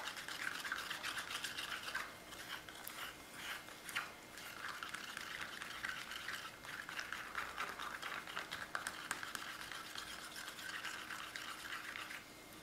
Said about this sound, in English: And let's just mix. Let's just start mixing that color up.